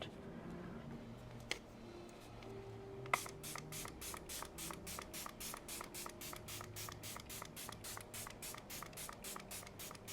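A rapid series of short, sharp spray bursts from a pump bottle, evenly spaced and close, after a couple of light clicks.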